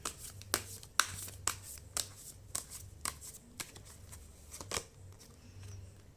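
Tarot cards riffle and slap in a quick, close series of crisp shuffling bursts, followed by a couple of sharper snaps as single cards are drawn from the deck, with no voices.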